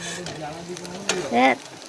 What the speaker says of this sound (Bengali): তেলাপিয়া মাছ না বড্ড ফাটে জানো তো এত ফাটে যে কি বলবো